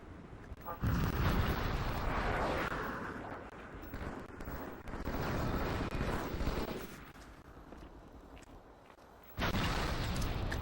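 Grenade blasts in the online multiplayer shooter Halo 2, heard as dense, rumbling bursts of booming noise that swell and fade, with another sharp blast at the end.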